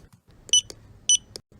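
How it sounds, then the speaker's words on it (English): A library computer beeps as books are scanned across the counter, giving bright electronic bleeps in two pairs at an even pace over a quiet background. "the computer beeps as the books slide across the counter"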